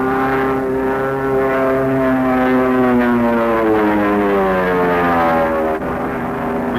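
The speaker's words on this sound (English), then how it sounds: "the fighters peel off once more for the bomb runs" Fighter-bomber aircraft of the 146th Fighter Bomber Wing in 1953 fly overhead in a loud, sustained propeller roar, the engine pitch sliding steadily downward as they pass and pull away.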